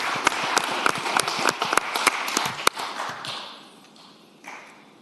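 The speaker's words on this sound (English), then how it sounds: "I will ask that we give her a great round of applause." Sparse applause rings out in a legislative Senate chamber, individual sharp claps at first, then thinning and fading to near quiet as it ends.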